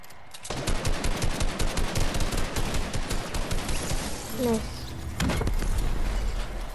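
Rapid automatic gunfire in a shooting video game, dense repeated bursts that run almost continuously, followed by a louder impact-like rumble near the end.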